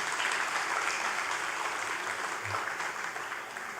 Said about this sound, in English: Yes, we may applaud them this morning.